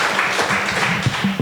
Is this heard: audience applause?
yes